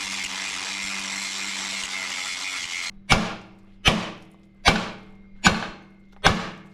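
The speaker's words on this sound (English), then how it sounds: "While I was banging on there to get that cleaned up" Someone bangs on a metal welding trailer to knock rust loose. A steady rushing noise gives way to five loud, sharp bangs, each ringing out briefly, spaced evenly under a second apart and close by.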